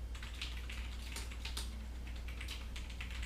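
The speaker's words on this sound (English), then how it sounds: "So I'm going to type that." A new mechanical keyboard is being typed on, a quiet run of quick, irregular key clicks and clacks over a low steady hum, with no talk.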